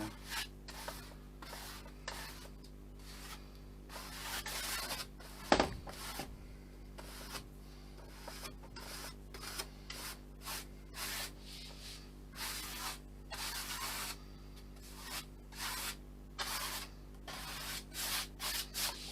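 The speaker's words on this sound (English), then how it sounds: "gets a good coat, brush it through, keep it as smooth as possible" A brush works a coat onto an RC plane wing from an L39 RBC kit, giving soft repeated rubbing strokes in a steady rhythm, close and fairly quiet, with one brief sharp tap.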